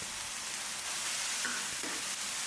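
Sliced red spur chilies and bell peppers stir-fry in a hot pan with spicy pickled bamboo shoots and minced pork, giving off a steady, close sizzle with faint scraping from the stirring.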